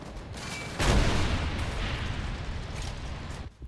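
Gunfire in the World War II shooter Call of Duty 3 on PS3, one heavy, close blast followed by a long roar of battle noise and rumbling that tails off near the end.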